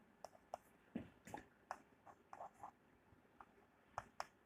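Chalk or marker tapping and scraping across a classroom board in short, irregular strokes and clicks, fairly faint with room noise between marks and no talk.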